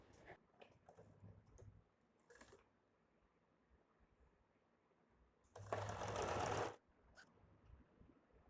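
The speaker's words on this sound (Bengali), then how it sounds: "পেছনের পার্ট এবং সামনের পার্ট দুটোকে আমি একসাথে বরাবর করে এখানে সেলাই করে নিচ্ছি" A sewing machine stitches back and front fabric pieces together in a quiet room, with light clicks and handling noises before one loud, steady burst of running stitching lasting about a second.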